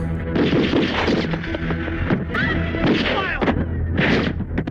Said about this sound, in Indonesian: tiba-tiba terdengar suara tembakan dari lantai atas